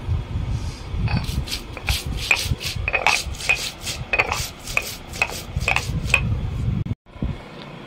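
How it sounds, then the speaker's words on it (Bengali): Rhythmic scraping and grinding of a stone pestle working chili, ginger and cumin into a paste on a flat grinding stone, in a steady back-and-forth stroke pattern, close and fairly loud, with no talking. "এর মধ্যে একবারে জিরেটা দিয়েও বেটে নেব"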